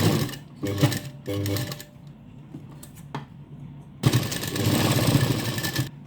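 Electric sewing machine stitching a double seam along an L-shaped corner of a garment sleeve, running in several short whirring bursts separated by pauses, with a longer loud run at the end, close and clear.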